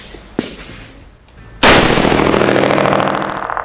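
A .308 rifle fitted with a PWS PRC (Precision Rifle Compensator) muzzle brake fires one loud, sharp shot at close range, following a faint earlier pop, and a long bright blast roars and decays over several seconds.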